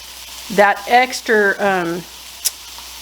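Butter sizzles in a hot pan with steak for beef noodle soup, a soft steady frying hiss running beneath a voice.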